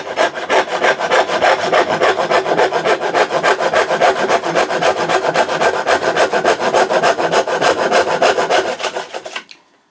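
A hand saw cuts through wood in a steady, rapid back-and-forth rhythm of rasping strokes, loud and close, continuing for nearly ten seconds before stopping.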